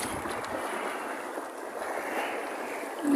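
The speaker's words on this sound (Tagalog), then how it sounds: "Malakas ng alon." Strong sea waves wash against the shore at Legazpi, Albay, where people shore-cast from the rocks, a steady rushing broadband surf with a gentle swell in the middle, alone without voices.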